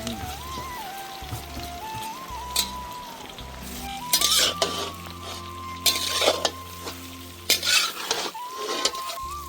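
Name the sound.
green chillies and taro leaves stirred in sizzling pan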